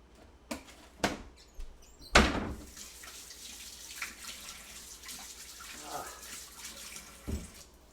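Water running from a kitchen tap while making a peanut butter fluffernutter, a steady soft hiss with a few knocks and clatters of dishes, close by, no speech.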